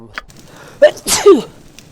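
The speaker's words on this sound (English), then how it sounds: "I did not aim to sneeze into the microphone like that." A single loud sneeze close to the microphone, a sharp burst with a brief intake beforehand, then quiet.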